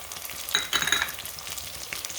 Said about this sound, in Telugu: అల్లం వెల్లుల్లి పేస్ట్ అయితే వేసేసుకుందాం